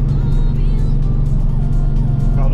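A classic air-cooled Volkswagen runs along a road on a club drive to Bragança Paulista, its engine droning loud and close with a steady low rumble throughout while other cars pass.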